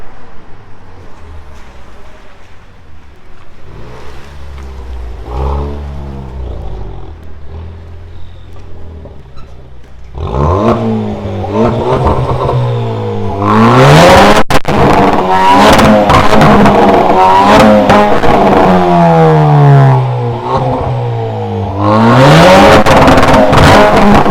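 A SEAT Leon 1.4 with a remote-controlled exhaust idles quietly, then erupts into loud, repeated revving, the engine climbing and falling in several sharp blips with raspy exhaust roar, close and alone.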